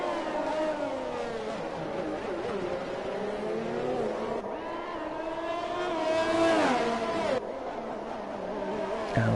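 Formula 1 race cars from a racing video game at the Singapore circuit roar and climb through the gears at a restart, high engine whines rising and falling in overlapping sweeps, loud and close, with no talking.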